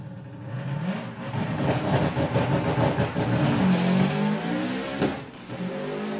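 A VW Beetle drag car launches at Santa Pod raceway, its engine roaring loudly and climbing in pitch through the gears, then cutting out abruptly as it loses fire after second gear.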